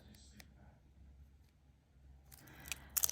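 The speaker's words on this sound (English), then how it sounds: "I'm cutting this into narrower strips" A few quiet snips of scissors cutting tape into narrow strips near the start, then a louder burst of crisp cutting and crinkling of the tape close by at the end.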